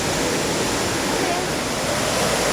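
A river on a hiking trail toward Puncak Ciguntur rushes steadily as a loud, unbroken broadband roar, close by and constant, with no talking.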